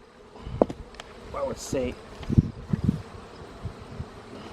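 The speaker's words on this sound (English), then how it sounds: "Look at all the bees in there." Honeybees buzzing around an opened, heavy beehive box during a week-ten hive inspection, a steady close insect drone with brief louder swells as bees fly near, under some nearby talk.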